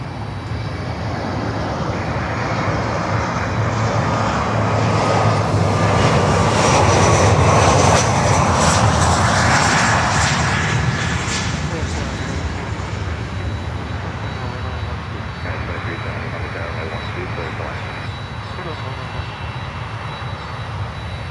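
A Delta Boeing 757 jet passes over Miami Airport on approach to land, its engine roar swelling to a loud peak midway and then easing into a steady distant rumble.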